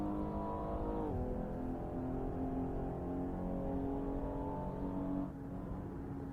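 A Maserati Levante engine in the Assetto Corsa racing game, driving the Nordschleife, revs steadily with a rising, harmonic-rich tone. The throttle eases off in a short dip about a second in and again near the end, and no one speaks.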